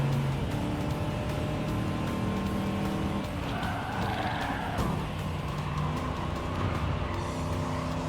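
A Chevrolet Camaro race car driven in Gran Turismo: a steady engine drone with shifting pitch and tire squeal through a corner, continuous and fairly loud, with no talk.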